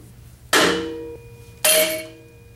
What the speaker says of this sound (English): Using a rubber mallet, let's go ahead and push the bottom bracket axle off the frame.